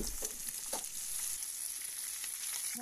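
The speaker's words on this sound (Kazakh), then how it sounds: "Балықты осылай қуырып жатырмын." Fish frying in a pan gives a steady, close, even hiss of sizzling oil that runs unbroken throughout, with no talk.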